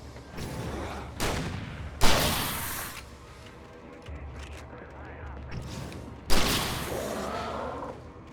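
Gunfire in the video game Alan Wake, a few sharp, heavy shots and short bursts spaced several seconds apart over a low, rumbling background.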